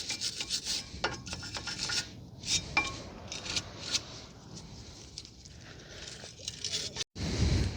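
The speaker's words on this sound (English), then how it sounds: "So you just want to clean some or most of the rust off. You can use a wire brush" A wire brush scrubs rust off front brake parts on a 2019 Honda Civic 2.0, giving repeated close rasping strokes with metallic scraping, ending in a brief pause and a thump.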